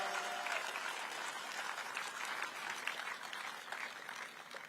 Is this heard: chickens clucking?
no